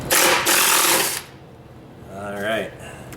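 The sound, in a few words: removing skid plate bolts, Kawasaki KLT 200C ATC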